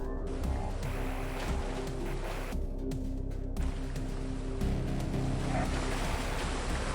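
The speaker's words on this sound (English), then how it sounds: "super cool little waterfalls" Steady rushing waterfall ambience from the AM2R video game, a continuous broadband roar of falling water with a low droning hum underneath, unbroken and fairly even throughout.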